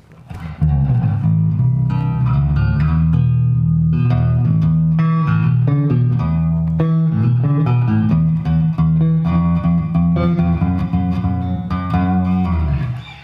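A lightweight Cort electric bass plays a steady, full-bodied riff with deep sustained low notes and plucked attacks, loud and continuous with no voices.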